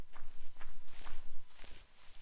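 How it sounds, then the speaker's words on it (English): Horse hooves while riding a horse in the video game Minetest, a series of evenly spaced soft thumping footfalls, fairly close and clear with no talking. "We are riding a horse."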